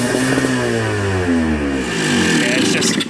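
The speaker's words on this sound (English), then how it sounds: "it's just revving to the moon because it's getting no gas" A motorcycle engine with a Chinese carburetor revs high and lean, a loud close buzzing roar that rises and falls in pitch, with a voice speaking over it.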